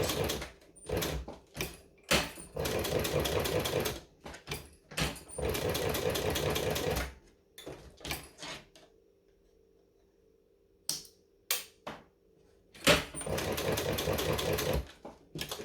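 A sewing machine stitches a fabric strap in several long motorized runs, with brief pauses for needle-down pivots and a final back stitch; the whirring bursts are close and loud, separated by quiet gaps and small handling clicks.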